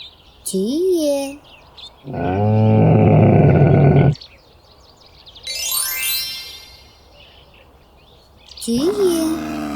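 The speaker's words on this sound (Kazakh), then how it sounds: "Бұл түйе." A camel lets out a short warbling moan, then a long loud guttural roar, a higher squealing call, and another wavering moan, all close with quiet gaps between.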